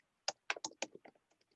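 Fingers type text into a help-desk form on a computer keyboard, a quick, uneven run of soft, close keystroke clicks that thins out into a few scattered taps in a quiet room.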